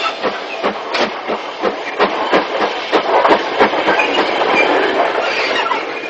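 Tilbury-designed 0-6-2 tank steam locomotive on a British railway in the 1950s, heard as a steady train rumble with repeated clickety-clack wheel beats over rail joints, fairly close and loud throughout.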